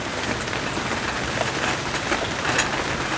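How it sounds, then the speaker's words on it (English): Rain falls steadily outdoors on a golf course, a continuous broadband hiss of drops hitting surfaces with occasional louder patters, close and even throughout, with no speech. "Wasn't supposed to rain."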